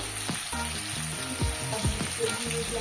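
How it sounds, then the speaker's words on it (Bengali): Spice paste frying with tomatoes in oil, a steady close sizzle with scraping stir strokes and clinks of a utensil against the pan, no talking. "এবার মশলাটা কষে নেবে টমেটোর সাথে ভালোভাবে একটু ভেজে নেবে"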